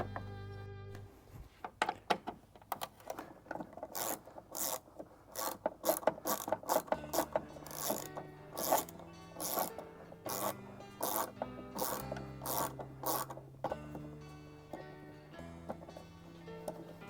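Ratchet wrench clicking in quick bursts while ditch light brackets are mounted on a Jeep Wrangler, a repeated sharp rhythmic clatter with pauses between runs, close and fairly quiet, with no talking.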